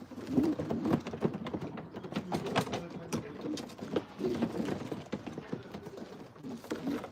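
Belgian racing pigeons coo softly in low, repeated murmurs, with scattered clicks and rustling around them, continuous throughout.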